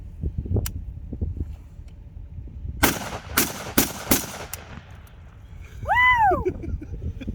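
A Spetz 12 shotgun with a Siga 12 muzzle brake fires slugs outdoors: four sharp, loud blasts in fairly quick succession, with low handling noise and rustle before and a brief whistle-like call afterward.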